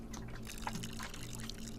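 Water pouring from a can into a potted plant's soil in Botany Manor, a soft, faint trickling splash running steadily for under two seconds over a quiet background.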